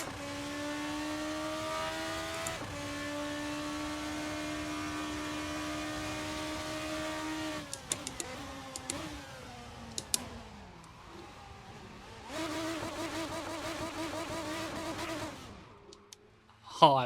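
A race car engine in a racing video game holds a steady drone, then revs in sharp rising and falling bursts with clicking, another sustained high rev follows, and the clip ends in an abrupt loud burst.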